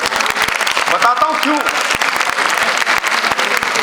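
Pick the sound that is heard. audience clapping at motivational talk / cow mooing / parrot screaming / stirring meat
audience clapping at motivational talk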